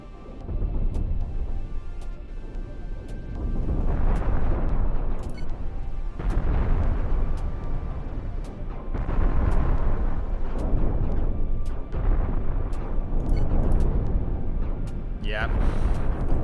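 Missiles explode in the space ship-building game Cosmoteer, a long string of heavy booming blasts with sharp cracks, loud and nearly continuous, with a voice talking over them.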